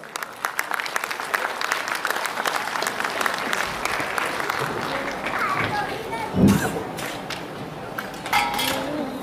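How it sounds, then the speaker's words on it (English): School annual day audience giving a huge round of applause, a crowd of many hands clapping steadily for several seconds with chatter and a few shouts rising through it. "Ladies and gentlemen, a huge round of applause."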